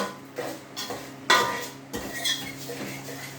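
A spoon stirs food in a metal cooking pot, scraping and knocking against the sides in irregular strokes, with one sharper clang partway through, close and fairly loud.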